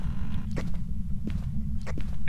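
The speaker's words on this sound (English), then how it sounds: "Oh, she touched the basement door." Basement door in the video game Phasmophobia creaking slowly open, a few short faint creaks over a steady low rumble of background noise.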